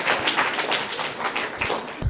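A crowd of schoolchildren claps together after a correct answer in a classroom quiz, a dense, steady patter of many hands lasting about two seconds at moderate loudness, with no voices over it.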